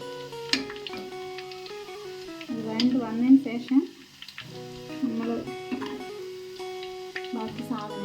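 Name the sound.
onions frying in a pan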